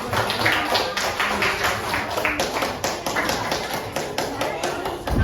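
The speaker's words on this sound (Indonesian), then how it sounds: "Tepuk tangan untuk kalian semuanya." Primary school students in a classroom clap together, a steady run of sharp, near hand claps at an even rhythm, with voices mixed in underneath.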